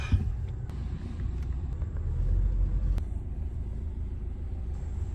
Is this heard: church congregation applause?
no